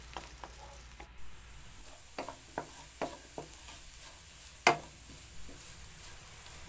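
Potatoes sautéing in a pan for Filipino-style ginisang corned beef, a steady soft sizzle broken by scattered scraping and stirring clicks of a utensil, one sharper clack near the end, with no talking.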